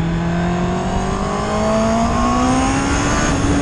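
A loud four-cylinder Honda CB650R motorcycle engine revs continuously, its pitch climbing steadily as it winds up through the revs, with no talking.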